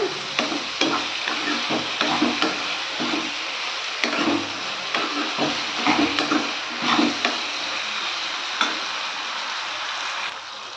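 Eggplant thokku with tomato and onion stirred and frying in hot oil in a pan: steady broadband sizzle with frequent scraping spoon strokes and clicks, close and fairly loud throughout, no voices.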